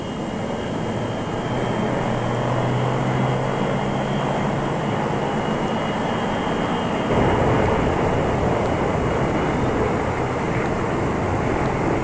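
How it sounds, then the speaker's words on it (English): A steady, droning roar of a propeller airliner's engines, continuous and fairly loud throughout with a low rumble and no voices. "The second Air Vietnam plane carrying many of the official party followed the RAAF Viscount"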